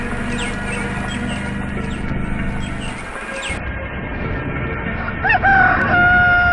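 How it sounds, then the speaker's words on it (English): A rooster crows in the morning in Cartagena de Indias, Colombia, near the end over a steady hum of background noise, its call rising and held briefly. "and sometimes a rooster"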